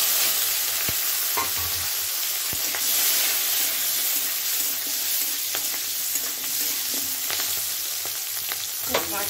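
Chopped olives and green chillies hitting hot oil spluttering with mustard seeds, a loud, dense, continuous sizzle with occasional sharp crackles and light stirring, no talk.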